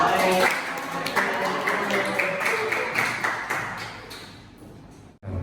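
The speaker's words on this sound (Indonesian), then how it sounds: "Oke, beri tepuk tangan untuk Anika." Classroom audience applauds a student group after its presentation in a school lesson, giving a few seconds of dense clapping that fades out near the end.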